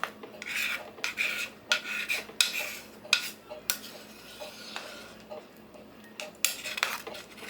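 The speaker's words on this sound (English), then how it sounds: "Let's give that a stir." Freeze-dried chicken supreme after seven hours of cooking, stirred in a pot with a metal utensil: close, uneven clinks and scrapes against the pot sides in bursts, with quiet pauses between.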